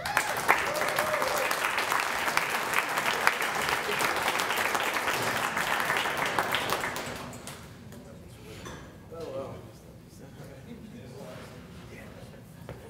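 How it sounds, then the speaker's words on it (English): Audience applause at an Ignite Tampa Bay talk event, a loud dense ovation for about seven seconds that then fades into room noise and a few scattered claps. "You can go ahead and clap that I'm up here."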